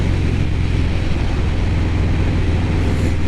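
A 2022 Harley-Davidson Fat Bob 114 motorcycle with a 4-inch Cobra El Diablo exhaust rumbles steadily and loudly throughout, a deep continuous engine drone with road and wind noise and no talking.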